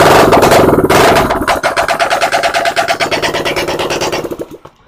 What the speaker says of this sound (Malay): percikan minyak hitam dia memang sangat-sangat kuat sebab motor ni baru je hidup